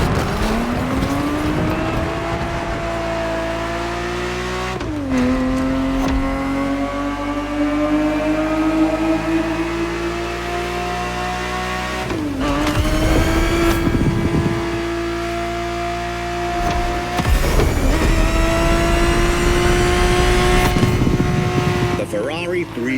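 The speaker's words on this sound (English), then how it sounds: "Ferrari 365 GTB4 is the perfect vehicle for you to experience Ferrari racing as it felt back in the 70s" A Ferrari 365 GTB4 engine in the racing game The Crew Motorfest revs up through repeated gear changes, loud and close, each rising pull broken by a brief shift dip, with a voice speaking over it.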